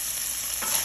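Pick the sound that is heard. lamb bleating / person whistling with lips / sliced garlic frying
sliced garlic frying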